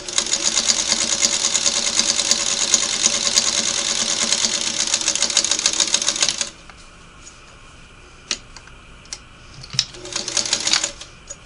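A Singer Model 301A sewing machine stitches in a fast, steady mechanical whir for several seconds, then stops, followed by a few clicks and a short burst of stitching near the end.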